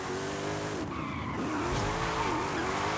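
Car drifting in the winter setting of Forza Horizon 5, a steady engine roar with rising and falling tire squeal as it holds a long slide, loud and continuous without talk.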